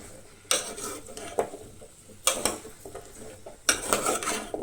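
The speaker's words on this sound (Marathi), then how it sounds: "हे सगळे तुमकां तेलान बरे अशें मातशें तळसळून घेवंक जाय। बरें मिक्स करून घेयात।" Vegetables for a Goan veg thali being stirred and mixed in hot oil in a pan, a few loud scraping clatters of a spoon against the pan over a soft frying hiss, close by.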